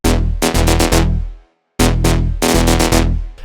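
An Afro Tech beat with a solid bass line under a driving drum pattern plays loud and up front. A bar of steady hits cuts out briefly into silence, then the groove comes back in.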